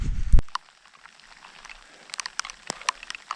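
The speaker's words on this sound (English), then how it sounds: "So yes, it's raining and it's looking pretty bleak as I look forward." Rain on a wet, exposed stretch of the Cape Wrath Trail beside a loch: one heavy thump at the start, then faint, scattered drops tapping close by.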